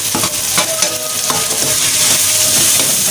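Ground cumin, coriander, turmeric and garam masala are stirred into eggplant bharta frying in a pan, giving a loud steady sizzle broken by scraping strokes of the spoon.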